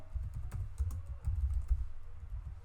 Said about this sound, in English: I can just head straight over to terminal and type the command pip install